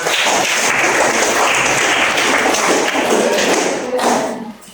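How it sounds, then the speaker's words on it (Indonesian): Classroom applause from a group of students at the close of a science lesson, a steady dense patter of many hands clapping that holds for about four seconds and then fades out. "Oke, kasih tepuk tangan"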